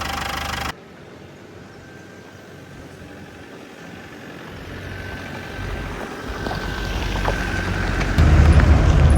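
A 1993 Land Rover Defender 90 with a 200TDi diesel engine and 124,000 miles drives along. After an abrupt cut, the engine hum grows steadily louder into a rough, rising roar, with no talking.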